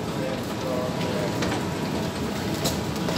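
A Stockholm Central Station metro train gives off a loud, steady rumble with rail clatter and hiss, heard from the platform with no speech over it.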